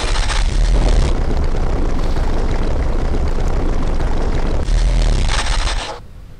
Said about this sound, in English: That's the throttle for the starboard side engine.